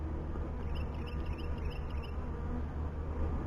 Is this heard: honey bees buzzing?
yes